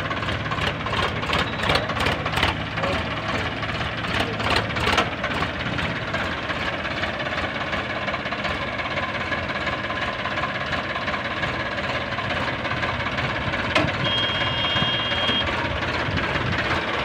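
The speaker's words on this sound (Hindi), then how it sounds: "अब इसके ये ट्रैक्टर आएगा भैया, ये निकालेगा इसको" A 2022 Swaraj 744 XT tractor with a fully loaded trolley runs with a steady, heavy diesel chug, close and continuous, with a rapid knocking rhythm early on that settles into an even idle-like drone.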